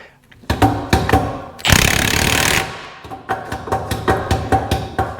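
An impact wrench tightening a differential pinion nut against its crush sleeve during a rebuild, firing in sharp repeated hammering bursts: a few short rattles, one longer sustained run, then a quick string of staccato hits, close and loud.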